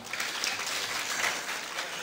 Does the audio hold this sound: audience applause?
yes